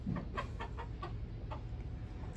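Chickens in a coop give soft, repeated clucks at a moderate distance over a low background rumble, with no voices.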